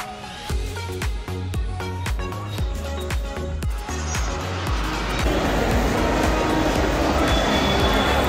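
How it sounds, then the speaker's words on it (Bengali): A Mumbai local train runs from Goregaon toward Andheri, its wheels clacking over rail joints in a steady rhythmic beat that fades into a loud, continuous rumbling roar of the moving carriage, heard from inside. "গোরেগাঁও থেকে আমরা ট্রেনে উঠে গেছি"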